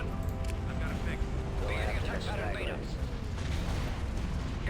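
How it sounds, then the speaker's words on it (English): Ion cannons fire during a space battle in the Empire at War strategy game, a dense rumbling barrage with chirping energy shots mixed in, and people talk over it. "Those ion cannons pouring in."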